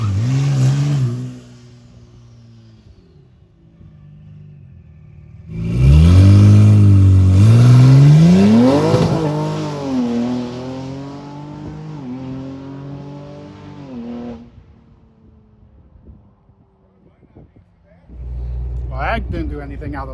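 Car engine revving hard during a burnout at a burnout championship on virgin asphalt: a short rev, then a loud, close, long climbing roar that holds and fades, and another rev at the end, with people talking.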